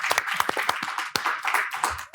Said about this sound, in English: please give a warm round of applause welcome for Ambassador Stevens